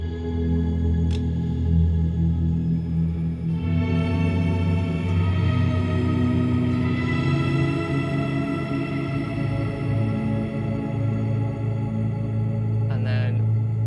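Guitar played through the PolyChrome DSP Lumos on its Deep preset, with duo shift pulling the tone down an octave, giving thick, sustained low chords with a shimmering wash on top, loud and continuous with no talking.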